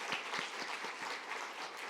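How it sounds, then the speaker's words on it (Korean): Brief applause for mission training school graduates at a church completion ceremony, soft scattered clapping at a distance. "우리 다시 한번 박수로 한번 격려해 주시기 바랍니다."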